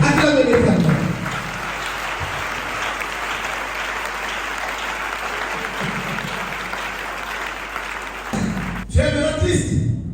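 A church congregation applauds loudly, a dense sustained wash of clapping for about eight seconds before tapering off, with a voice speaking briefly at the start and end.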